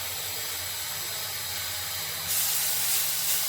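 Poppy seeds dropped into hot oil in a pan, a soft steady background that turns at once into a bright hissing sizzle which keeps going.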